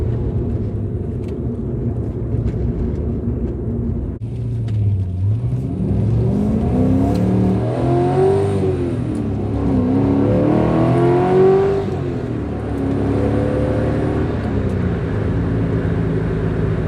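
A Porsche 944 with a swapped LS V8 accelerates hard up close, engine climbing through the revs in sweeping pulls, easing off, then pulling again before settling to a steady cruise.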